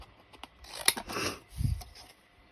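Scissors snip through paper while making a garden journal, a few crisp close cuts with a light rustle of the sheet between them, quiet and without speech.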